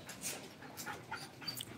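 Belgian Malinois puppies, gray sable, pant softly and let out faint whimpers and small yips, a quiet, continuous breathy sound close by with no talking over it.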